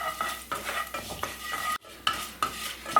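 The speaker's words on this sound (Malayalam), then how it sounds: "ഇതെല്ലാം കൂടി നമുക്കൊന്ന് ഇളക്കി കൊടുക്കാം" Whole spices stirred in hot oil in a pan, a spoon scraping in repeated strokes over a soft sizzle, close and without talk.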